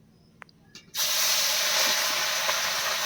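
Pieces of fish drop into a pan of hot oil, a couple of small clicks followed by a sudden loud, sustained frying hiss close by.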